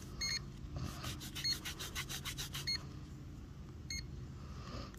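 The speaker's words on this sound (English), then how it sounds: "Give it a quick pants rub here." A buffalo nickel coin dug up while metal detecting at a church gets rubbed briskly against pants fabric, a soft close scuffing in short bursts, with a few electronic beeps from the detector around it and no talking.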